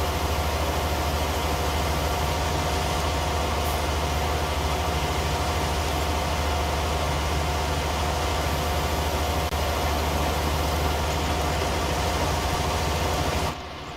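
A tractor engine idles steadily in Farming Simulator 19, a constant low rumble with a droning hum that holds evenly and then cuts off abruptly at the very end.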